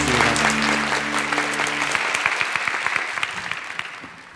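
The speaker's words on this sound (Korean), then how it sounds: "우리 사랑하는 마음을 담아서 큰 박수로 목사님 모시겠습니다" A church congregation bursts into applause to welcome the pastor at an evening worship service. Dense, loud clapping from many hands starts over fading musical tones and gradually thins and softens toward the end.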